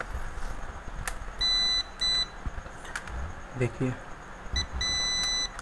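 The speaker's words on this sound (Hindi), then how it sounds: "यहाँ आपका बर्जर पॉइंट में सेट करना है, बीप साउंड में।" A digital multimeter set to buzzer continuity mode gives several steady high-pitched beeps of differing lengths during a water geyser heater repair, with someone speaking briefly between them.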